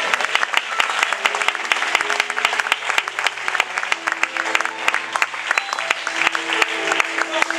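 Church congregation clapping during a Spanish-language worship service, lively and uneven with sharp individual claps standing out, while a sustained musical tone and some voices sit underneath.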